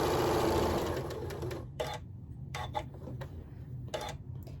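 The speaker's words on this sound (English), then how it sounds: "now we're just going to sew that on" A sewing machine stitches quilt block pieces for a friendship star block, running in short close bursts of rapid stitching separated by brief pauses, loud and alone without talk.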